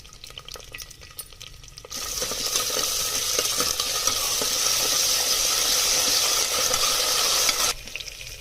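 Chana dal, urad dal, mustard seeds, cumin, dried red chillies and curry leaves fry in hot oil for tempering, a steady close sizzle that jumps louder after a quiet start and keeps crackling with occasional stirring before dropping off near the end.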